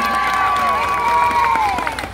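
An audience at a political campaign rally applauds and cheers, a loud, dense wash of clapping and crowd noise that holds steady for about two seconds.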